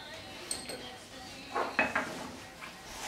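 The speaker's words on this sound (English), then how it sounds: "So I'm just mixing this until combined, and this also kind of loosens up the sour cream." Spoon working through sour cream cheesecake filling for an orange-vanilla cheesecake in a bowl, with soft scraping and a few light clinks against the bowl, close by over a quiet room hiss.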